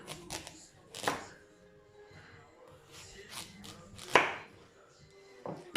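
A knife slices through squash, cutting it into strips on a kitchen board: a handful of sharp, close cutting strokes spaced irregularly with quiet pauses between, with no talking.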